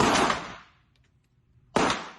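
Two sharp pistol shots at a shooting practice range, each a loud crack with a short decaying tail, separated by about a second and a half of quiet.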